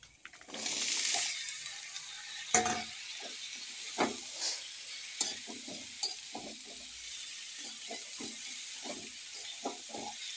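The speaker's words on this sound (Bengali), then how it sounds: "দিয়ে একটু লাল লাল করে নিয়ে নেড়ে চেড়ে রসুনটা একটু ভাজা ভাজা হয়ে যাবে" Garlic and green chilli fry with mustard seeds in a pan, starting with a burst of hiss, then a soft sizzle broken by repeated clacks and scrapes as the mixture is stirred.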